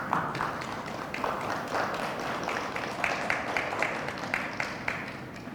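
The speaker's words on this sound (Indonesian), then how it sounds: "Untuk itu, tepuk tangan semuanya." Group clapping in rhythmic bursts from a gathering of Transportation Ministry cadet candidates, a crowd of hands beating in repeated waves, moderately near, with no voices over it.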